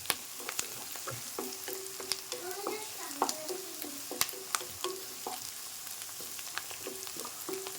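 Onions frying in a pan for onion gongura curry, stirred with repeated irregular scrapes and clinks of the spoon over a soft sizzle, close but quiet, no talking.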